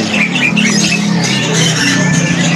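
Busy, continuous chattering and squeaky calls from golden-headed weaver birds at a bird market, close and loud, overlapping without pause.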